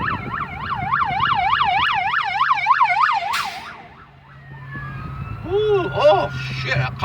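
Wailing ambulance siren on a highway near a truck fire, sweeping up and down loudly and steadily at first, then a second siren's yelp rises near the end over engine rumble.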